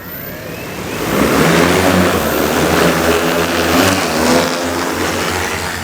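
An X8 agricultural spraying drone spins up its large motors and lifts off, a loud, steady whirring hum that swells after the first second and holds near and continuous, with no talk over it.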